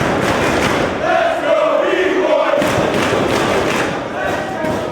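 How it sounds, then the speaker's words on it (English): A Philadelphia crowd at a 2005 trios tournament pro wrestling event roars steadily for five seconds, a dense, loud, continuous wall of cheering with thuds and a commentator's voice running underneath. "B-Boy winning over this Philadelphia crowd"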